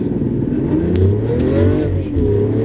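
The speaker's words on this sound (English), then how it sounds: "So go ahead and accelerate out onto the track." A Lamborghini Aventador accelerates out onto a race track, its engine revving up in a loud, rising roar heard from inside the car, steady and continuous with no talk.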